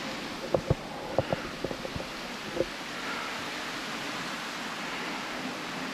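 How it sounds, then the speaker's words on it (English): Bindery Falls in the Victorian High Country pours as a steady, even rush of falling water, with a few sharp knocks near the start before the continuous roar settles in alone. "That's as good as any of the other waterfalls we've seen around the traps"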